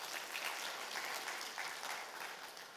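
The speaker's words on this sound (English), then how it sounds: "round of applause to all the sponsors as well here" Audience applause for the sponsors at a Salesforce testing tech talk, a steady wash of many hands clapping for about three seconds, fairly faint and even with no voices over it.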